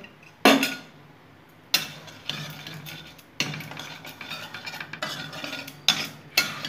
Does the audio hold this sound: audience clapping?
no